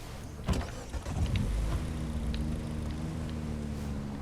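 Minibus in an open-world driving game: a steady low engine drone with passing vehicle noise and a couple of sharp clunks early on, moderately loud and without talk.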